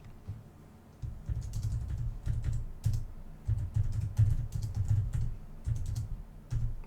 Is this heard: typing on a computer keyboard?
yes